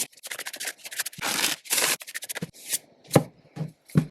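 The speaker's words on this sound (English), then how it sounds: "So I've shuffled my cards." A tarot deck is shuffled by hand, with quick riffling bursts, soft card rubs and sharper taps in an irregular rhythm, close and clear with no talking.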